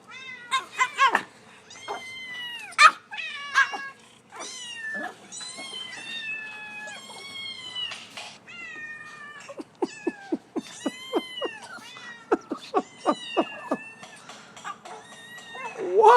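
A YouTube cat video played aloud fills the room with nearly continuous meows, some long and wavering, others short and rapid in quick bursts, at steady moderate volume throughout.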